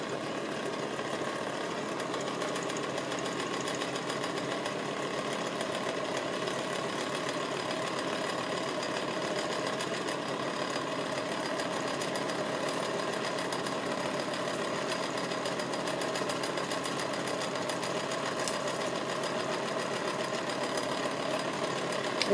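A LEBEN cotton candy machine runs continuously as sugar heats, giving a steady whirring, rattling motor hum with a fine buzzing texture throughout, close and unbroken, with no talking.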